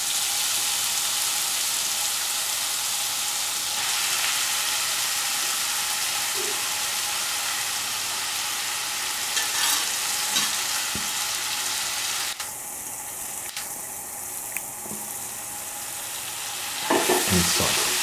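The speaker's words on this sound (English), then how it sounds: "Keep on sauteing in the ghee and mix with the cardamom." Grated carrots sauteing in ghee with cardamom for carrot halwa give a steady close sizzle with soft stirring scrapes, ending in a sharper, louder burst of frying.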